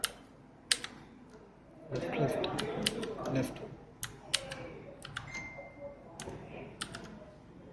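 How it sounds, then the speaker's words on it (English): Computer keyboard being typed on in sharp, scattered clicks and bursts, close by, under someone talking. "this is the keyboard, and we have the keyboard already set up there"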